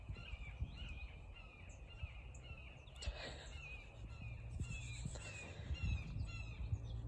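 A hawk gives a series of short, thin, high-pitched cries outdoors near a metal workshop. The calls are fairly faint and distant, repeating over a low rumbling background.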